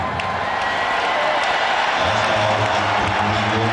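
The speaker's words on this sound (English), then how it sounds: "Fans cheer Michael Jordan back in." Basketball arena crowd cheering as Michael Jordan returns to the court in a Wizards at Lakers game, a steady dense roar of fans throughout with some rising whoops, heard close and loud.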